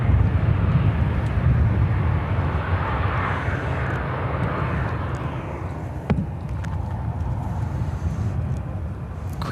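An airliner lands on runway 10 center at Chicago O'Hare, its engines a loud, steady roar with broad rumbling noise that slowly shifts in tone as it passes, with no talk over it.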